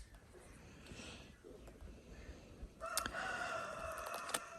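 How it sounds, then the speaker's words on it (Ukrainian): A rooster crows loudly close by in the second half, with more crowing and clucking in the background and a faint voice early on. "Так, півні співають."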